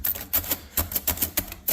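Keys clacking on a faulty Comptometer Model H mechanical calculator with bent parts and some keys that won't depress: a quick, uneven run of about eight sharp, close mechanical clicks with no talking.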